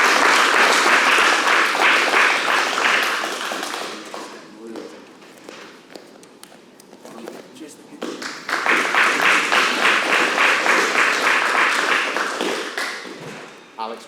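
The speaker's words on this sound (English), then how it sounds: "Give him a round of applause" A room of martial arts seminar attendees breaks into a round of applause, which fades in the middle and then swells again, with speech and light taps mixed in.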